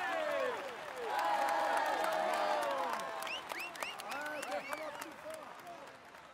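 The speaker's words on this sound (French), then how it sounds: "Allez, on l'applaudit encore." A roadside crowd at a Tour de France mountain stage finish claps and cheers, with scattered whistles and raised voices over the applause, which starts loud and slowly thins out.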